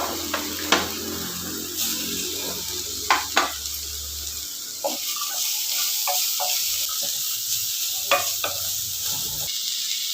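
Curry leaves, coriander leaves and chopped vegetables sauté in a pan, giving a steady sizzle broken by repeated stirring scrapes and clinks of the spoon, with no voices.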